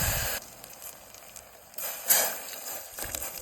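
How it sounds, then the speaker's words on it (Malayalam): Hot water poured into browned, melted sugar in a pan for homemade cola syrup produces a steady steamy hiss that swells and fades in bursts, with a louder sputter in the middle. "ലേശം ചൂടുവെള്ളം ഒഴിച്ചു കൊടുക്കാം"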